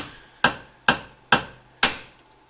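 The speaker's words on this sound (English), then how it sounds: "You're going to hammer that tip right there, that way." Four sharp, ringing hammer strikes on metal held in a vise land at an even, steady pace, each one close and loud with a short metallic decay between blows.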